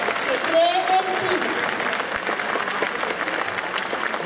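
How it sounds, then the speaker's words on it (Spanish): Audience applause at a high school farewell ceremony, a steady wash of many hands clapping throughout, with a short whistle-like tone near the start. "Fuerte y caluroso el aplauso para todos ellos."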